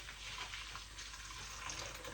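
Boiling water pours over rice noodles sitting in a sieve, a steady, even rushing splash for about two seconds with no talk, quiet and close.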